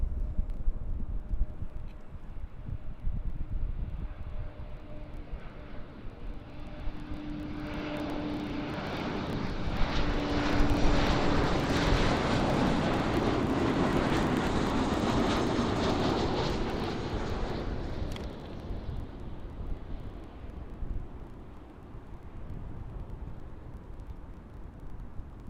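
A jet plane at Amsterdam airport roars past, swelling from a distant rumble to a loud, broad engine roar at mid-clip and then fading away, with a faint tonal whine early on and no talking.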